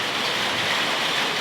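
Steady rain pours in Bali, a dense, even hiss of drops on surfaces filling the whole moment with no voices.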